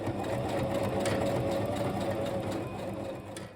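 A sewing machine stitches a haori kimono jacket, running in one steady continuous whir with a fine rapid mechanical texture, close and clear with no voices.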